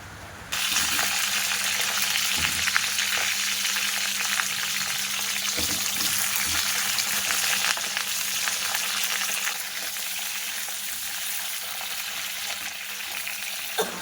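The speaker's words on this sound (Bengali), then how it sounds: "তেল গরম হয়ে গেছে, এবার আমি পটলগুলো দিয়ে দেব।" Pointed gourd (potol) frying in hot white oil in a wok, a loud hiss that holds steady and eases slightly later on, with occasional clinks and scrapes of a utensil and no voices.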